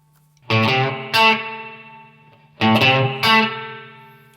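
Two pairs of electric guitar chords through a TC Electronic Hall of Fame 2 reverb pedal on its spring setting ring out, each decaying into a splashy, metallic reverb tail, with silence in between.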